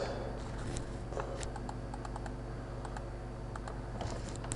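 Keystrokes on a computer keyboard while working in a spreadsheet, a steady patter of light clicks over low background hum, close and moderately quiet.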